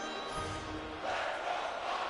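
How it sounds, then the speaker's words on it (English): Crowd booing at a hockey game in Chicago in NHL 23, a brief, muffled mass of disapproving voices rising and swelling in the arena. "You can hear the boos here in Chicago"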